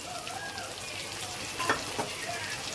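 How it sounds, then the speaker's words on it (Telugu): Yellow, red and green capsicum with green chilli pieces fry in a pan, a close, even sizzle with a few faint stirring scrapes over a brief stretch. "ఇవన్నీ కాసేపు దోరగా వేయించుకుందామండి"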